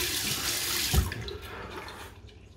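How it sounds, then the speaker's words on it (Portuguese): Cold tap water runs into a sink while a face is rinsed, a steady close splashing stream with one brief louder splash, fading slightly toward the end. "Enxago com água fria."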